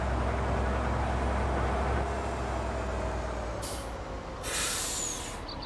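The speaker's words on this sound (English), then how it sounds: "This is a rallying aggro truck." A rally truck in Farming Simulator 19 rumbling along with a steady low engine roar, followed by two bursts of sharp air hiss, like brakes venting, near the end.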